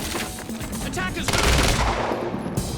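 Rapid machine-gun bursts and gunshots crackle loudly and continuously in a Quantum Break firefight, dense and close, with faint voices underneath.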